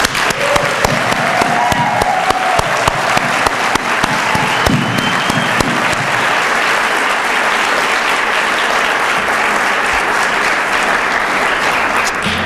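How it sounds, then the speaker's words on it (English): An auditorium audience at a pharmacy college white coat ceremony breaks into sustained, dense applause lasting over twelve seconds, with a voice briefly speaking over the clapping near the start. "I would like to have you join me in basically giving our class of 18 a round of applause here"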